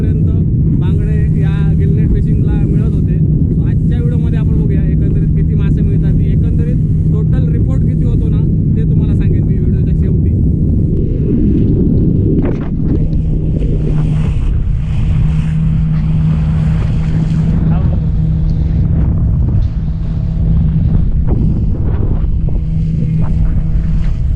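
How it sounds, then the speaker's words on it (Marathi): A fishing boat's engine drones steadily on rough deep sea while wind buffets the microphone and waves slosh against the rocking hull, with someone talking over the noise. "थोडं समुद्र रप आहे त्याच्यामुळे बोट खूप हलके आहे आणि लाटा बघा"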